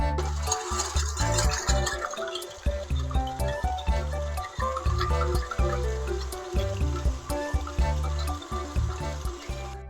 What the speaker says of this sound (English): we're going to whisk it until we get some really good peaks going